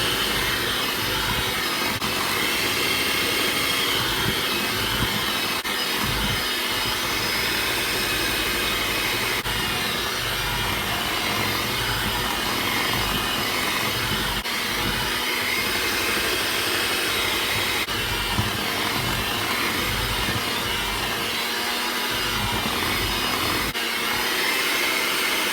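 An electric mixer beats maple brown sugar cookie dough as flour is added, giving a steady, continuous whirring drone that runs unbroken throughout with no talk.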